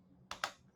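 Two quick, close keystrokes on a computer keyboard while HTML code is being typed, soft clicky taps a fraction of a second apart over a quiet background.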